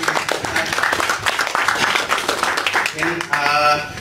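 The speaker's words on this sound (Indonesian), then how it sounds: "tepuk tangan dulu untuk" Audience clapping at the close of a Technical Thursday cloud computing Q&A session sounds as a steady patter of hands, with music or a voice rising over it near the end.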